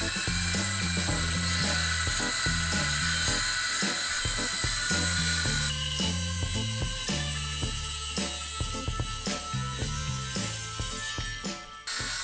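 A circular saw whines steadily and continuously, loud and close, its pitch wavering slightly as the blade cuts through wood, running without pause throughout.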